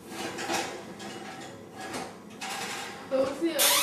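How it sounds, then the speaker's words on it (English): A metal oven rack slides back into a home oven while baking flan, making brief scraping rattles and a couple of clanks, with a voice nearby. "Push the rack in."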